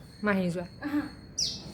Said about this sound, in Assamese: এইটো চৰাই